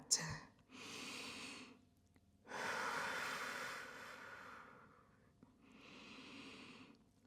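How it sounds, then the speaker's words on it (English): Slow, deep breaths drawn in and out through a yoga practice, a loud sharp intake opening three long broad airy phases with short pauses between, close to the microphone. "Breathing deeply in and out."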